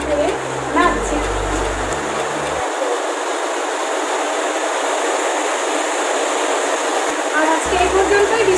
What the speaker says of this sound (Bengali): আর বাইরে তো আজকে প্রচণ্ড বৃষ্টি হচ্ছে,